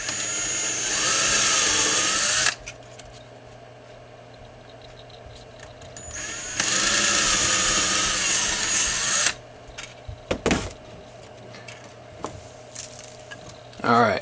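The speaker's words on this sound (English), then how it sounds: "You just have to go back and drill it out a little bit further." A power drill whirs in loud bursts drilling holes in aluminum body panels, spinning up for a few seconds at a time, with quiet pauses, clicks and a brief spoken word between.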